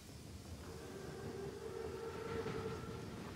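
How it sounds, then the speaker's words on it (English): An armored train rumbles past in the Call of Duty WW2 campaign, a steady rolling roar of wagons and wheels that swells slightly toward the end, with no talk over it. "Train's right on time."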